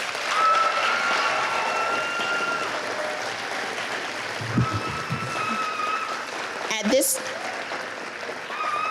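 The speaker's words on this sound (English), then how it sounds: "Let's give our graduates one more hand of applause." At a culinary institute graduation ceremony, an audience applauds the graduates in a broad, steady wash of distant clapping with voices mixed in and a brief thump near the end.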